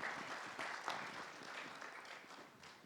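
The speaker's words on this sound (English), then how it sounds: "A big round of applause for our moderator and panelists" Faint, distant applause for the moderator and panelists of a healthcare financing leadership panel, scattered claps forming a thin, steady patter at low level.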